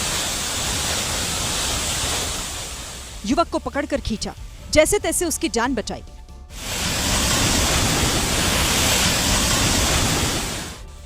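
Floodwater rushing across Shimla Bypass Road in Dehradun from a drain overflowing after heavy rain, a loud steady roaring wash that drops out briefly while a narrator speaks, then surges back.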